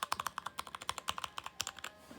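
Rapid, crisp typing on a wooden computer keyboard without rubber O-rings, close up with irregular bursts of distinct key clicks and no voices.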